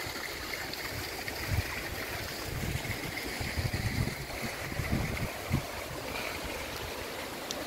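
A river at Donorojo hill, running slightly murky after overnight rain beside an old bathing place, gives a steady, continuous rushing wash with a low rumble and faint splashes throughout.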